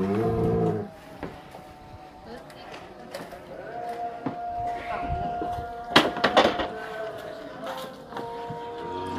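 A large jumbo cow lets out a short low moo, followed by quieter barn sounds, shuffling and faint clanks, with another animal call partway through.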